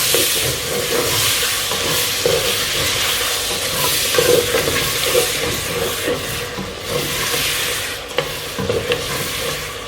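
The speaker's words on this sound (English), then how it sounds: "I'm going to add my onions and my tomato at the same time. And I'm going to fry that." Chopped onions and tomato sizzle and crackle in hot oil in a pot while being stirred, with steady close frying hiss and occasional scraping, no talking.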